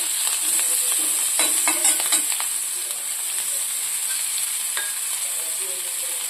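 Ginger pieces, green chili and onion pieces frying in a tempering for a yogurt dish, giving a soft steady hiss with a short burst of stirring clatter early on, then settling into a quiet continuous sizzle.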